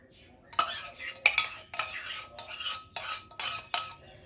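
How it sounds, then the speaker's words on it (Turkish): A utensil stirs warmed cream into mashed potatoes, scraping the bowl close up in about six steady, rhythmic strokes, with no talking. "Şimdi patates piremin içerisine döküyorum."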